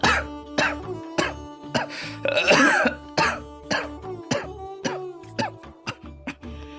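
A narrator imitates an old man's coughing fit, voicing a string of harsh, rasping coughs at an irregular pace, close and loud, with one longer wheezing throat-clearing burst partway through.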